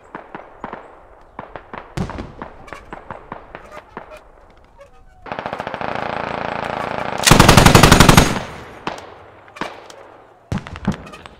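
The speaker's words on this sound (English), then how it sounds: "Dude, this MG position is so perfect." Machine gun fire in a Narva online war game: scattered single shots and short bursts, then a sustained rattling burst around the middle that swells into a louder stretch, with a few more shots near the end.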